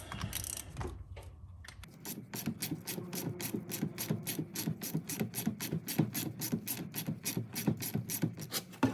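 Close ratchet wrench loosening a 13 mm bolt on a 1996–2004 Ford Mustang steering column, a quick steady series of sharp clicking strokes following a brief rattle of handling.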